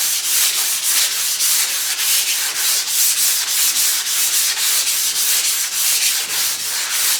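Steady rhythmic rubbing of sandpaper over polyester body filler on a 1970 Chevelle, loud and close, with even back-and-forth strokes repeating for the whole stretch and no voices.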